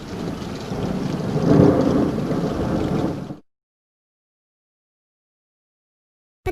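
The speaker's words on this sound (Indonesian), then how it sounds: "Tiba-tiba hujan turun dengan lebatnya, beserta sambaran petir." Heavy downpour with a rolling thunder strike, a dense roaring wash that swells in the middle and then cuts off abruptly into silence.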